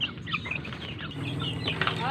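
Chickens clucking close by, a dense flurry of short bird calls over a low steady background hum.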